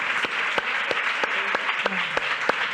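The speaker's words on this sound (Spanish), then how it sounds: "Un aplauso, por favor." Applause from an audience at the close of a round-table session, with scattered louder claps over a steady wash, fairly close and alone.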